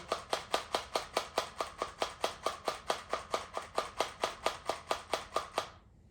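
Flour sifted through a sieve for Ukrainian lazy belyashi dough, with a steady, even series of light taps on the sieve, about five per second, close and clear, ending abruptly.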